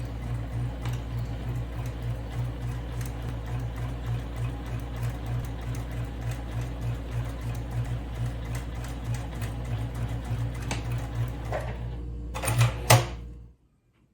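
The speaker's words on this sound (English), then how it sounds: "now we're going to start to top stitch" Sewing machine top stitching fabric for a lunch bag, a fast, even mechanical needle chatter running continuously, close by, before a brief clunk and stop at the end.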